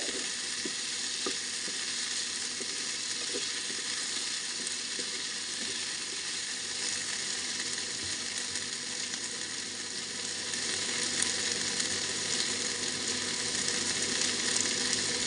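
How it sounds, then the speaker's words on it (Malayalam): Ivy gourd (kovakka) frying in a pan with no added water, a steady close sizzle running throughout with faint scraping and clicking from stirring. "കോവയ്ക്ക ചേർത്ത് കൊടുത്തതിന് ശേഷം നന്നായി ഇളക്കി കൊടുക്കാൻ മറക്കരുത് വെള്ളമൊന്നും ചേർക്കാതെ തന്നെയാണ് കോവയ്ക്ക കുക്ക് ചെയ്തെടുക്കുന്നത്"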